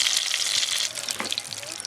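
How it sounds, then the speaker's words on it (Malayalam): Lemon pieces sautéing in hot oil for a pickle, a steady bright sizzle and crackle running throughout with small pops, close and fairly loud. "നമ്മുടെ നാരങ്ങ അതേ നല്ല കറക്റ്റായിട്ട് വഴന്ന് വന്നിട്ടുണ്ട് കേട്ടോ"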